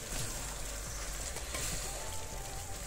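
Tomato and onions cook gently over low heat in a pan, making a soft, continuous sizzle that stays even and fairly quiet throughout, with no voices.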